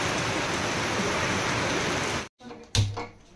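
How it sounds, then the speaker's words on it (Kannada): Heavy rain pours down in a dense, loud, continuous roar, then cuts off abruptly and is followed by a brief knock and a short burst of noise. "ಮಳೆ ನೋಡ್ರಿ ಎಷ್ಟು ಜೋರು ಬರತೈತಿ"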